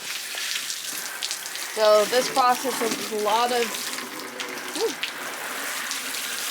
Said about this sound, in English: then I rinse my table off